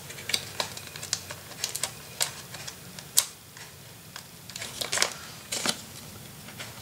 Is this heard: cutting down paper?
yes